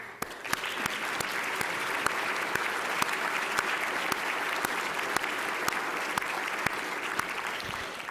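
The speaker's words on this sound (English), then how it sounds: "let's join me in really giving a round of applause ahead of the meeting" Sustained audience applause in a hall at an annual meeting, a thick steady roar of many hands with sharper individual claps popping out, holding level for about eight seconds.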